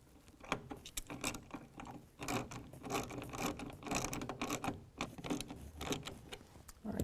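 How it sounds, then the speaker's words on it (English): A 7/16 ratchet clicks steadily while tightening a Gator MT tonneau cover clamp in the stake pocket of a 2019 Chevy Silverado bed, with rapid close ratcheting strokes and some scraping, no voices. "start tightening that up with a 7/16 wrench or ratchet"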